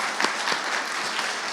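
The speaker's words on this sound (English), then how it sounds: "And let's give our panelists a round of applause." Audience applause for the panelists at a summit panel, a short, steady burst of clapping from a crowd, fairly loud and uniform.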